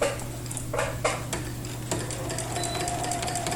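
Sewing machine doing free motion quilting through a quilt, stitching in the ditch: a steady close mechanical hum with a few louder clunks and ticks early on, running alone without talk.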